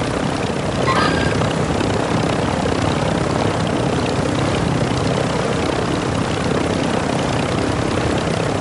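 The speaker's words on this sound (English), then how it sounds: "Got another chopper going in there?" Helicopter rotor chop from the video game Warzone, a steady dense drone filling the whole stretch with a brief higher whine near the start, loud and continuous with no talk.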